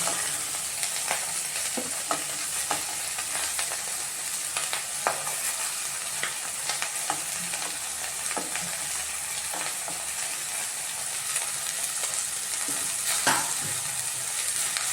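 Baby corn pulao ingredients fry in a pan with a steady, close sizzle, broken by scattered scraping stirs and clicks across the whole stretch, no voices.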